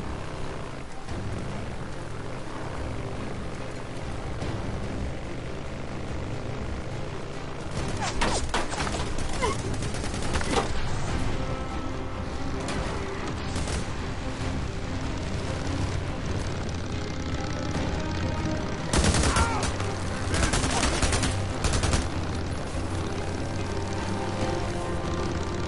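Gunfire in the Days Gone video game during a chase after a fleeing motorbike: short bursts of shots around eight and nineteen to twenty-two seconds, layered over a constant loud engine drone and game ambience.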